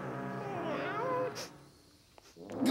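A cat lets out a long, wavering meow up close, followed by quieter rustling and a brief voice near the end.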